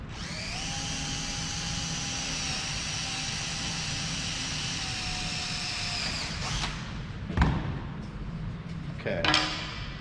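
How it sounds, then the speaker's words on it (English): Power drill running steadily for about six seconds while boring a hole in wood in a scroll saw workshop, then winding down, followed by a couple of sharp clunks and handling knocks. "drill a hole real quick."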